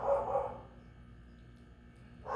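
Dogs bark behind a house that backs onto a small menagerie. There is a short burst of barks at the start and another at the end, with quiet in between.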